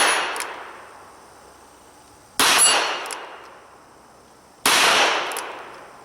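.38 Special rounds fired single action from an S&W 686 revolver strike a steel plate 25 yards away, three sharp shots spaced about two seconds apart, each followed by a ringing metallic clang that fades slowly.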